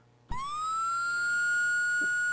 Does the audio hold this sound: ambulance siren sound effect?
yes